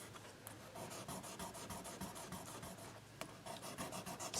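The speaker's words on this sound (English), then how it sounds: "try to polish the frets a little tiny bit with my 1000 grit or 1200 grit sandpaper that I have" Fine 1000 or 1200 grit sandpaper rubbing guitar frets on an LTD Deluxe neck, a steady soft rasping scrape repeated in quick back-and-forth strokes, close and fairly quiet throughout.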